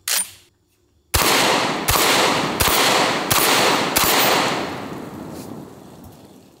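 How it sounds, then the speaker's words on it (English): Five loud Benelli M4 shotgun blasts fired outdoors at a steady pace of about one per second, each sharp crack followed by a long ringing tail that fades out after the last shot. "Let's shoot the Benelli one more time."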